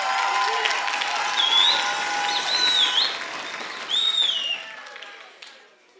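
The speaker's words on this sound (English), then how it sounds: "Can you give them an applause?" A crowd at a school learner leadership event applauds steadily, dense clapping with a few whistles and cheers rising over it, then fading away toward the end.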